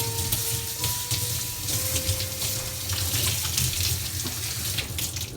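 Water runs steadily from a faucet over a dirty Telecomet Japanese terminal being rinsed, a close, continuous splashing gush with small shifts as the device moves under the stream.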